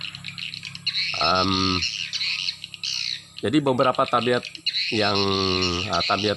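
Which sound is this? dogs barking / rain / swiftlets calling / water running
swiftlets calling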